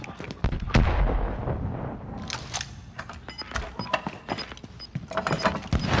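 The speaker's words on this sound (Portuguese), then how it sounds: "Míssil lançado." A missile launches and detonates in the battle royale shooter Warzone, giving a loud booming blast with rumbling aftermath, followed by scattered sharp pops and game effects, up close with no talk over it.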